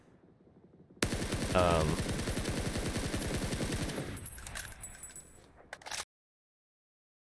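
A Scar L assault rifle in PUBG fires a sustained burst of rapid automatic shots lasting about five seconds, loud and close, with a metallic rattle at the end, then silence.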